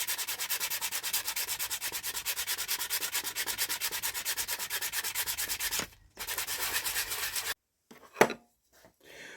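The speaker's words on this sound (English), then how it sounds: "all I'm going to do is clean the peg up with some sandpaper now" Sandpaper rubbed briskly back and forth over a wooden hiking stick peg in fast, steady strokes, loud and close, with a brief pause before a few final rubs and a knock.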